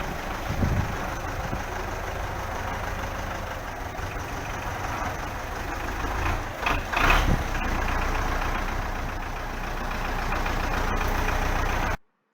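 A 2006 Belarus 510 tractor engine runs steadily at close range, a continuous rough rumble with a brief surge partway through and no talk.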